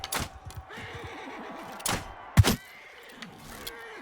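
A horse whinnies in the Mount and Blade Bannerlord video game during a battle, a wavering neigh under sharp clashing impacts and hoof-like knocks, fairly faint against a steady background.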